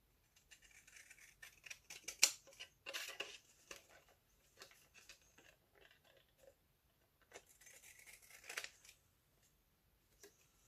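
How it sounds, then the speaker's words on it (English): Quiet crisp snips of decorative-edge scissors cutting paper, with rustling paper, come in irregular bursts, up close with pauses between cuts. "So I can use my decorative scissors to cut a decorative edge."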